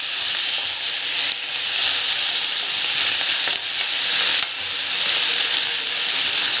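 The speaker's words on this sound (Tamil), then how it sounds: "கீரை போட்டுட்டு இப்படி வதக்கலாம்" Spinach leaves sauté in a hot pan for a leaf chutney, giving a loud, continuous sizzle with a few soft stirring knocks and no talking.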